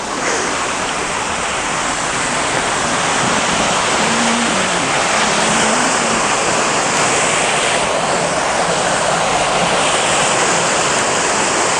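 A pool waterfall pours and splashes continuously into the water, a dense, steady rushing wash that stays loud and close throughout, with no voices.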